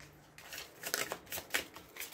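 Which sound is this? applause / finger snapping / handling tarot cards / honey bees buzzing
handling tarot cards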